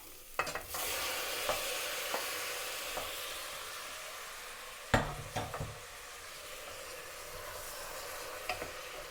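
Onions sautéing in a pan for tomato rice, a steady close sizzle with occasional sharp clicks and scrapes of a spoon stirring, no voices.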